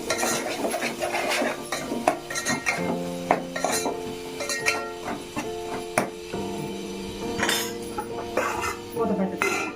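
Egg pulusu with turmeric and salt being stirred in a pot, with a spoon repeatedly scraping and clinking against the metal, irregular knocks and rattles over a faint steady hum.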